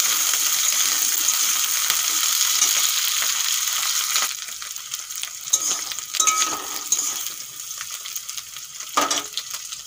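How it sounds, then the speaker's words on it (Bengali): Vegetables such as drumstick, potato, tomato and eggplant fry in a pan with a loud, steady sizzle that shifts partway through into rougher scraping and stirring noises over continued crackling. "দু চার মিনিট এইভাবে ভেজে নেব।"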